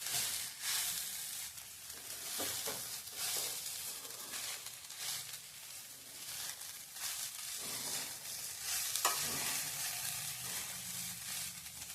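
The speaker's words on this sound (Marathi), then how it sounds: "आता आपण पोहे ठेवले होते ते घालून घ्यायचे हलक्या हाताने कलर मिक्स करून घ्यायचं आहे" Poha (flattened rice) being gently stirred in a pan gives a faint, steady sizzle with soft scraping throughout.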